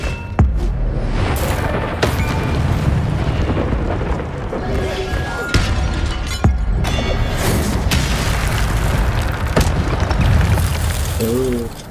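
Fiery spell blasts from a wizard video game crackle and boom in dense, loud bursts across the whole stretch, with sharp impacts at intervals and a constant roaring bed of effects.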